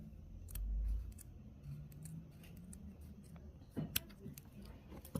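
Scissors snip through heavy utility kilt fabric during a waist alteration, a series of close, crisp cuts with irregular spacing and a couple of sharper clicks near the end, with faint low room rumble beneath and no talking.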